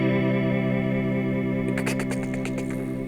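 A sustained electric guitar chord warbles with a subtle pitch-modulation effect from a guitar pedal, wavering and shifting, then a few quick strums cut through the shimmering tone.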